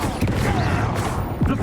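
The Confringo fire spell goes off in Hogwarts Legacy in a short, dense crackling blast, loud and close, layered over busy game effects and voices.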